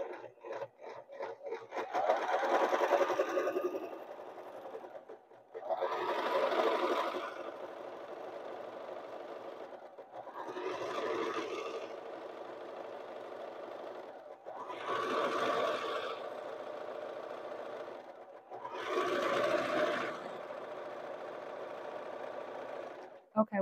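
A sewing machine stitches a zigzag seam on pillowcase fabric, running in five bursts of steady mechanical whirring separated by short pauses, with a voice talking throughout.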